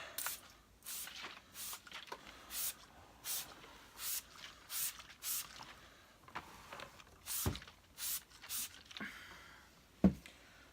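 Short hissing sprays of polish from a trigger bottle onto an Electrolux cylinder vacuum cleaner repeat in quick bursts, close by, with pauses between groups and a faint knock near the end.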